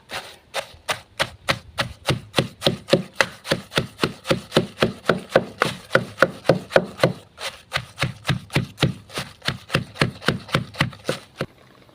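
A pestle pounds ingredients in a mortar for Isan bamboo shoot curry, a close, steady rhythm of about thirty even thuds with a brief pause partway through.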